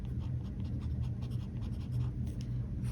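A Platinum fountain pen with a 14K gold nib writes on paper, a soft, close scratching that runs steadily for a few seconds without talking.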